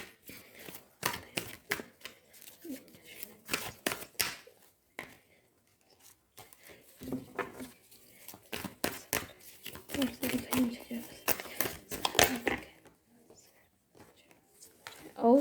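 Tarot cards drawn and laid from a deck make a run of crisp snaps, flicks and papery rustles in irregular bursts, with a voice talking in between.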